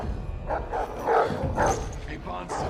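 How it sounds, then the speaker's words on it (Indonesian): A pet dog barks several times in short yips and bow-wows, moderately close, with voices talking over and around the barking. "mendengar ada suara anjing menggonggong"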